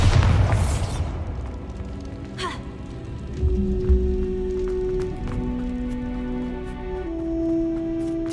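Bombarda blasting spell from Hogwarts Legacy on PC: a heavy booming explosion at the start with a rumbling tail, followed by scattered debris patter, a second thud and lingering tonal game ambience.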